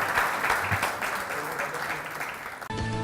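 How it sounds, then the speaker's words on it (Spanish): An audience at a university criminal-law event applauds for about two and a half seconds in a dense, steady wash of clapping, then it cuts off abruptly into a different background. "Les pido un fuerte aplauso para los compañeros."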